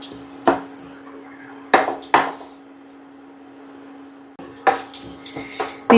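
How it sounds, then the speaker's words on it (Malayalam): Lentils dry roasted without oil in a hot, heavy pan: intermittent sharp metallic clinks and scrapes of a utensil against the pan, a quiet gap midway, over a faint steady hum. "ഒരു ചൂട് കട്ടിയുള്ള ഒരു പാൻ വെച്ച് നമുക്ക് ഗോൾഡൻ കളറിൽ വറുത്തെടുക്കണം"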